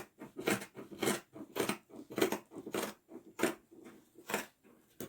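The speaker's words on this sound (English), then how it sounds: "And I will cut off the armhole." Scissors snip through shirt fabric to cut out an armhole, giving a run of close, regular crunchy cuts about every half second, each short and distinct, with no voices.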